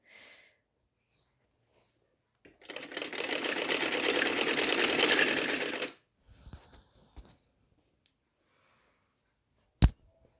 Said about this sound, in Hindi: ये देखते जाइए और सिलाई करते जाइए।